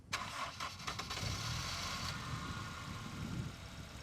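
A car fitted with an aftermarket exhaust cranks over in a few quick stuttering bursts, then catches and settles into a steady, muffled idle; faint and somewhat distant.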